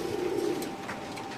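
A racing pigeon gives a brief, low coo near the start, which fades into a soft steady hum.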